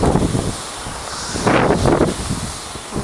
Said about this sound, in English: We're still hitting extremely high gusts of wind here.